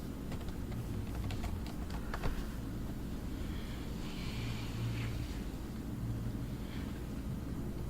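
Keys tapped on a computer keyboard while a password is entered, a short run of light clicks over steady background hiss and low hum, with no talking.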